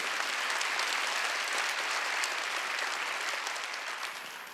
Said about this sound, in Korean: 박수 치려면 지금 하자